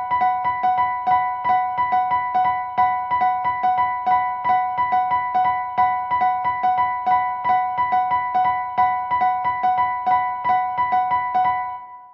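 Two interlocking streams of bright, pitched clicks repeat steadily for about twelve seconds, their pulses drifting in and out of alignment in a dense, even polyrhythm.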